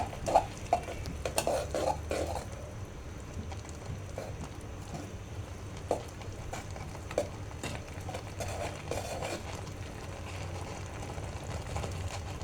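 Batter for egg puri is mixed in a bowl, giving faint, irregular soft pats and light clinks that continue steadily and quietly throughout.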